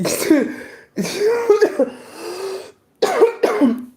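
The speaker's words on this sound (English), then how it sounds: "that's where that cough could be coming from" A person coughs in several harsh, voiced bursts separated by short pauses, close and loud, with a drawn-out raspy throat sound in the middle.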